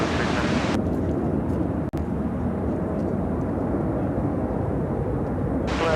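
A Boeing 747-8 freighter takes off from Chicago O'Hare, a steady, broad engine rumble that fills the whole stretch at moderate volume, with a brief dropout partway through.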